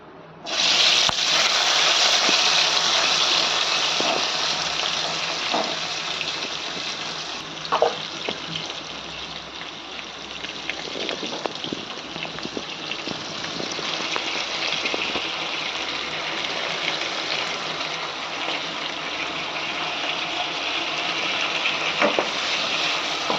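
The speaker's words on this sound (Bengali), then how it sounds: "তো এই তেলে এবার চিংড়িগুলো ফ্রাই করে নেব" Turmeric-coated shrimp frying in oil give a continuous, fairly loud hissing sizzle throughout, broken by occasional small pops and utensil clicks, with no speech.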